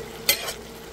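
Mung beans hitting hot oil in a casserole pot for sautéing, heard as one sharp, close sizzle and stir that quickly settles into a softer frying hiss.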